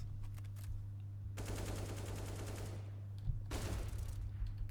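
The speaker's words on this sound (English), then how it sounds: "Dies to Henny with a Galil." Bursts of rapid automatic fire from a Galil rifle in the video game Counter-Strike, two sustained volleys separated by a short pause, heard over a low background hum.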